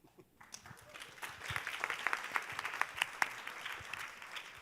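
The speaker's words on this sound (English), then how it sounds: "Another round of applause to them" Audience applause at a GLF New York 2019 conference session on mountain restoration, building from a quiet start into a moderate patter of many hands with distinct individual claps standing out, heard from within the room.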